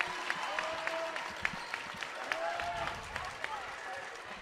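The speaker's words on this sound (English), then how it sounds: "There's a great cheering section here for Bishop Montgomery." Indoor crowd noise at a high school basketball game, scattered clapping and cheering echoing in a large gym, sneaker squeaks and a commentator talking over it.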